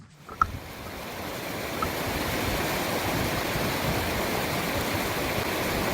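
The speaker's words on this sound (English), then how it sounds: "More water coming right off the snow and glaciers from Mount Hood." A meltwater stream from Mount Hood's snow and glaciers rushes loudly and continuously nearby, a dense roaring wash of water after a brief faint clatter at the start.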